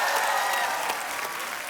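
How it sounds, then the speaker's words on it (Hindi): Studio audience applause on the set of The Kapil Sharma Show, a dense, steady wash of clapping that fills the whole clip at close range and eases off slightly toward the end. "आओ पाजी, जोरदार तालियां हो पाजी का।"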